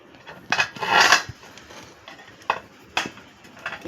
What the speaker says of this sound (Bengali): এবার কড়া বসিয়ে দিচ্ছি সিদ্ধ করে নেব